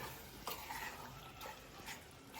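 Paneer curry with kasuri methi being stirred in a pan, giving soft scraping, swishing strokes with a faint sizzle underneath, close and fairly quiet.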